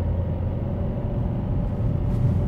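A car cruising in third gear, after a manual change up from second, gives a steady, dense low engine and road rumble that holds close and even throughout, with no talk over it.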